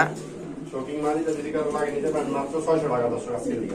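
Pigeons coo in soft, repeated throaty murmurs close by at a pigeon market, with a person talking over them.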